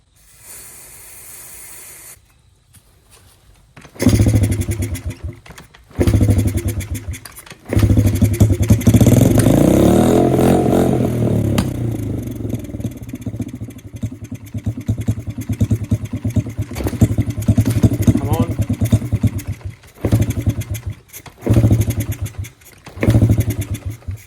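An abandoned motorcycle with old, likely bad fuel cranks and sputters, then catches and runs roughly for several seconds, loud and close with a hissing, uneven note, before cutting out and coughing through a few brief restart attempts.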